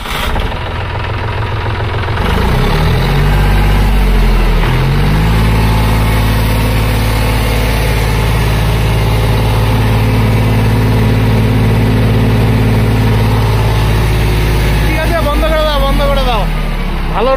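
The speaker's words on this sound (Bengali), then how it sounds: "এটা একটু স্টার্টার দিয়ে শোনাও, সাউন্ড টাউন্ড গুলো শোনাও বন্ধুদের।" A used 2020 5050 D tractor runs at idle on a second-hand showroom lot in Cooch Behar, West Bengal, a steady loud diesel rumble throughout with a brief rev near the end and people talking over it.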